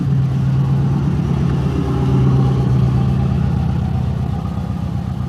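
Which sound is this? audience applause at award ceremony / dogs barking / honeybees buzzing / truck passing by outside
truck passing by outside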